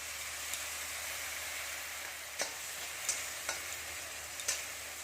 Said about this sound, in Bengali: মিক্স করা মশলাটা দিয়ে দিলাম